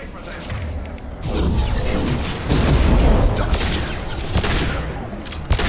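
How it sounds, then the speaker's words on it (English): Mass Effect 2 combat with a biotic explosion and pistol fire, heard as rolling booms and crackling bursts that swell and surge across the stretch, loud and dense, with brief sharp hits near the end. "I think we might have had a biotic explosion on that one."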